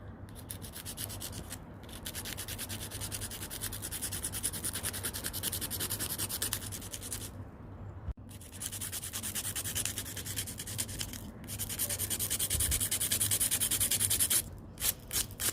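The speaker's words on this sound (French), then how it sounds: "vous posez bien votre ongle et vous prenez votre lime" A nail file rasps steadily back and forth over gel on a fingernail, a close, rhythmic scratchy sanding with a few brief pauses between strokes.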